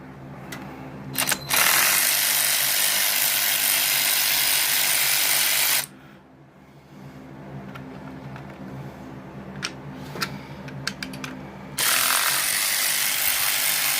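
Close, dry clicking of a ratchet socket wrench turning a fastener on a 1978 Chevrolet Camaro Z28 comes in two long runs separated by a quieter pause with a few scattered clicks.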